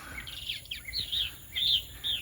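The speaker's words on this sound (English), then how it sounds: "Now the birds have woken up." Birds chirp at dawn beside a Mississippi bayou in Jackson County, with several thin, high tweets repeating at a moderate distance over faint background hiss.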